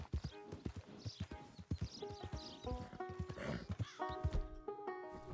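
A horse in the video game Red Dead Redemption 2 clip-clops along with a quick, uneven run of close hoofbeats, broken by snorts and a whinny over a faint musical backdrop.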